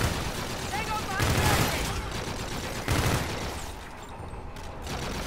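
Rapid bursts of gunfire from a shooter video game, a dense fusillade with louder clusters around the first and third seconds, thinning out toward the end.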